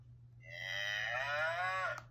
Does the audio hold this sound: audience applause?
no